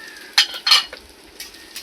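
A utensil scrapes and clinks against a pan while chopped shallots, beetroot and sprouted green gram are stirred, a few quick scraping strokes over a faint sizzle.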